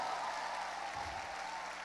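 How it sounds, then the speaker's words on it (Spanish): Congregation at a church women's gathering clapping for God, a steady broad wash of applause from a large room, moderately loud and continuous without talk. "Dale un aplauso fuerte a Dios."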